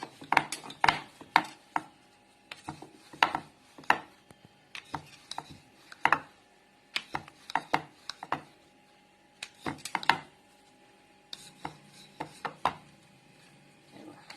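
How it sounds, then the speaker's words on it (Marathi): A rolling pin works dough for coconut karanji pastries on a board, giving a string of sharp wooden knocks and clatters. They come in irregular bursts, close and fairly quiet, with short pauses between them. "असं लाटून घ्यायचं."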